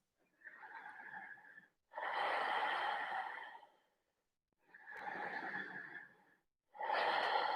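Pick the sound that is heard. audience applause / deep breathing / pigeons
deep breathing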